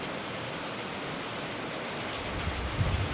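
Heavy rain pouring down in a steady, dense wash of noise, close and continuous with no voices.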